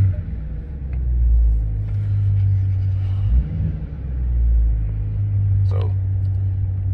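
A Dodge Charger RT engine idles with a steady low rumble that swells slightly partway through, while someone talks over it.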